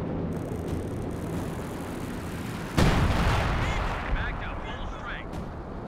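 Howitzer artillery fire in Company of Heroes 2 booms once loudly and close about halfway through, over continuous battlefield noise and a voice talking.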